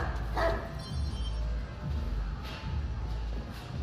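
Dogs barking in the video game Watch Dogs 2: a series of loud, close barks repeats at a steady, insistent pace over a rumbling game background.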